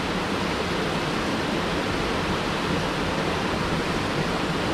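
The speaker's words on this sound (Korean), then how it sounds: "폭포 안에까지 들어왔어요." A roughly 3 m waterfall pours into a broad valley pool, heard from close inside the falls as a loud, dense, unbroken roar of rushing water with no other sounds.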